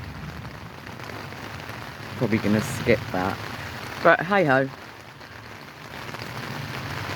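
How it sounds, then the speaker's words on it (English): Steady rain pattering on a tent at Heacham Beach, a close, even hiss throughout, with someone speaking briefly over it midway. "Oh, please stop raining soon."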